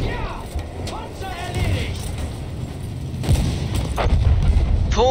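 A tank blowing up in Battlefield 1 lands as a deep boom around the 3.3-second mark. Steady low rumble and scattered game effects surround it, and someone talks over the action.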